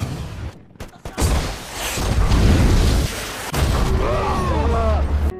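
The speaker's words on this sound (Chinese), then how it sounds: "突然，一枚炮弹在他们车前爆炸" An artillery shell bursts in a war-film battle scene: a heavy boom and burst of blast noise, then a sustained roaring rumble with a second loud impact partway through.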